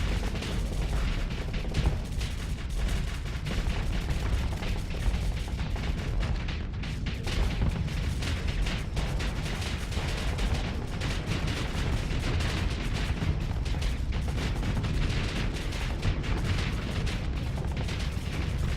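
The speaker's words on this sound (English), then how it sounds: "I love this setup because it's just a bunch of lasers firing at once." Massed ship lasers blasting together in a StarSector space battle with the Exerelin mod, a loud, dense, continuous barrage of crackling pops and booming impacts lasting throughout.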